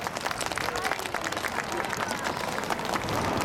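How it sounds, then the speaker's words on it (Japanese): An audience gives warm, fairly quiet applause, a steady patter of many hands clapping with faint crowd murmur underneath, heard from some distance. "温かな拍手をたくさんたくさん頂戴しました"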